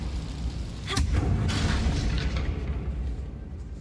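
A Confringo fire spell cast in the video game Hogwarts Legacy lands as a sharp crack followed by a deep, rolling explosive boom that fades slowly.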